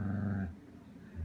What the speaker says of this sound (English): Why are you growling?